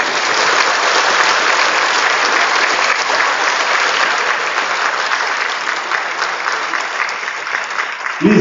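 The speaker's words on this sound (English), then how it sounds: "have a clap for your children" An audience at a university inaugural ceremony for a new B.Tech batch claps steadily, a dense, loud, sustained round of applause from a large crowd that continues without a break before tailing off.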